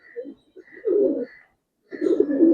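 Giribaz coloring pigeons coo in soft, throaty bursts, a few separate calls followed by a longer rolling coo, close and clear with no talking.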